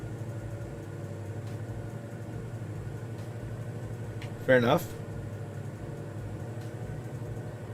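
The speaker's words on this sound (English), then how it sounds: "So you can lower the engine noise and engage the headsets." Steady droning hum of an aircraft engine in Microsoft Flight Simulator, a Cessna 182 on a VFR flight over Italy, continuous and moderate beneath a short spoken comment near the middle.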